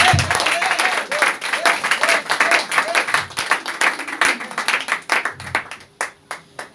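A church congregation applauds and acclaims the Lord during a French-language sermon, filling the room with loud, dense clapping mixed with crowd voices, which thins into scattered claps toward the end.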